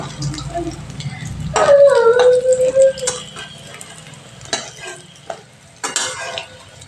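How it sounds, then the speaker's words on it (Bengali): Masoor dal fritters being turned in hot oil in a pan, a soft sizzle under scraping and clinking from the utensil, with a short squeaky tone and a few scattered knocks. "এবার আমি বড়াগুলোকে একটু উল্টে দিচ্ছি।"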